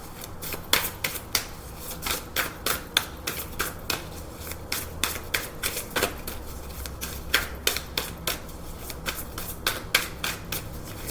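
Tarot cards being shuffled by hand at close range, a steady rapid series of crisp riffling snaps and flicks continuing throughout.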